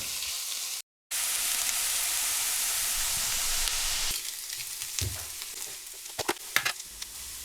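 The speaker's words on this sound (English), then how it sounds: "Add your onions and cook until soft and brown." Onions sizzle in olive oil in a pan, a steady loud hiss that cuts out for a moment, then turns softer and uneven with clattering stirring scrapes near the end. Nobody speaks.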